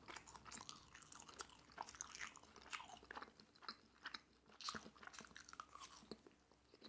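Close, crisp crunching and biting as crunchy sweet and sour chicken or ginger beef is chewed, irregular bursts of crackle repeating for several seconds with no talk.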